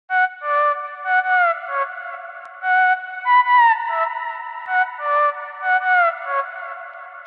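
A synthesizer arpeggio in FL Studio of bright, echoing tones cycling up and down in quick repeated patterns, sustained and fairly loud, with no talking.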